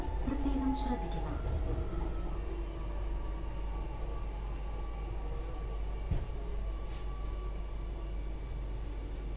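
Steady low rumble of a Kochi Metro train at a station platform, with a continuous hum, occasional tonal chimes and faint background voices.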